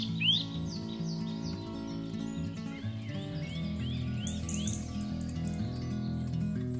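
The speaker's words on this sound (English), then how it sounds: "A European nuthatch." A European nuthatch calls in deep British woodland, a run of short, rising, repeated piping notes over a low steady background hum, fairly faint and distant.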